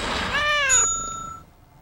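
A single cat meow sound effect, a clear rising then falling cry lasting under a second, followed by a bright bell-like ring that fades out.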